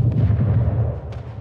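Ship cannon fire in the game Anno 1800, during a naval battle: a steady low booming rumble with repeated dull bursts, fairly loud throughout, no talk.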